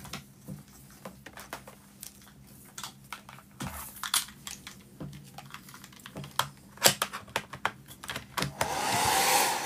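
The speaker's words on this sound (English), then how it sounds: "now I want to quickly give it a blast with the hairdryer" A steady whoosh of a hair dryer drying paint on a model building's walls runs throughout alongside scattered clicks and taps, growing louder and fuller toward the end.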